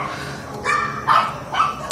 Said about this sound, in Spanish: a pesar de los ladridos de perros, intentaremos terminar